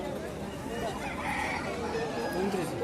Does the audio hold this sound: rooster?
yes